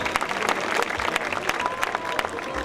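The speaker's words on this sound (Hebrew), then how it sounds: "קריאות כפיים שלכם" Applause from the audience at a university engineering faculty degree ceremony in Holon, a steady wash of many hands clapping at moderate distance, sustained through the whole stretch with faint voices mixed in.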